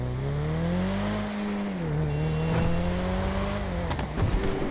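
Engine of a Nissan GT-R with its stock motor in GTA 5 Online, fitted with black wheels, holding a loud, steady drone with shifting pitch and a brief dip, then rising and revving near the end, close up with no talk.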